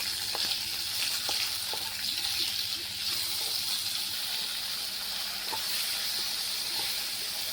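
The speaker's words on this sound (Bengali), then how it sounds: "আর এখন টমেটোটাকে খুব ভালো করে ভাজতে হবে" Tomato salted and frying in a pan for a Bengali rohu fish curry gives a soft, steady sizzle with faint stirring taps. It runs continuously at a moderate distance with no voices.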